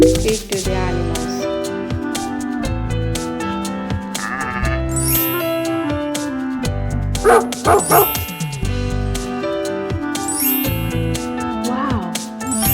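Dog barks in a children's farm-animal sound segment, mixed with sheep-like bleats over a continuous, loud, bouncy music track with no speech.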